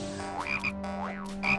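A cartoon frog croaks twice in quick succession, each croak a loud, close, warbling call that swoops up and back down, with no other sounds behind it.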